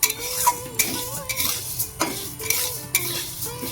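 Cashews and four cardamom pods roast in a pan for a Gobindobhog rice sandesh, with a spatula scraping and clinking in quick repeated strokes over a light sizzle.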